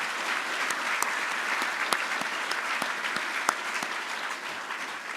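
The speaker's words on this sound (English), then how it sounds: "Let's give Pearls Hawthorne, the concert band, and the choir another round of applause." Applause from an audience at a city state-of-the-city address, saluting a concert band and choir: steady, dense clapping with a few sharp louder claps, filling the room without a break.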